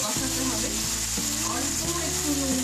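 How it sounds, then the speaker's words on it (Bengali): Chilli chicken cooked with soya chunks and several sauces sautés in a pan with a dense, steady sizzle and stirring, close up, while a sustained tonal hum runs underneath. "সেটাকে ভালো করে কষাতে হবে।"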